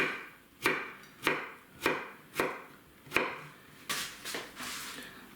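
A kitchen knife cuts vegetables into strips on a board for homemade shawarma: five sharp, evenly spaced chops about half a second apart, then a run of quicker, softer slicing strokes, close and clear with no talking.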